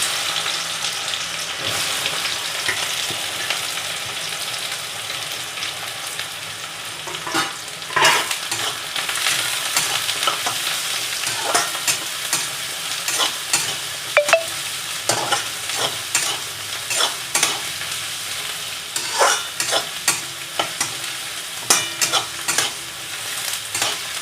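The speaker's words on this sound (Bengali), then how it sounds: "পেঁয়াজটা আমার ভাজা ভাজা হচ্ছে," Chopped onion fries in hot oil for a coriander chicken curry, a steady close sizzle overlaid with repeated scraping strokes of stirring that grow busier toward the end.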